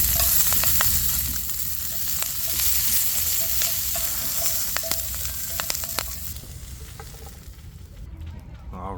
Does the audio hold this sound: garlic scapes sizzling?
yes